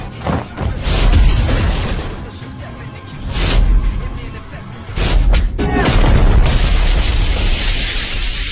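Explosion effects in an anime fight between exorcists: repeated loud booming blasts and broadband bursts that fill the whole stretch, with a brief lull between heavy hits.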